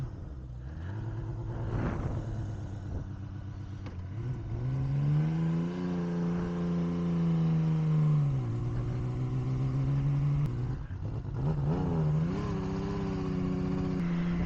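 A 1978 Honda CBX six-cylinder, 24-valve motorcycle engine runs close by, a steady drone that swells into a sustained rev midway, eases back, then climbs again briefly.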